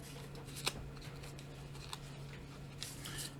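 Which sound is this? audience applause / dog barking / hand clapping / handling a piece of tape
handling a piece of tape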